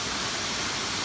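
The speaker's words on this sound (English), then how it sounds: "And you hear water in the background." Water rushing steadily beside a hiking trail, a dense, continuous hiss of flow that stays even and fairly loud throughout.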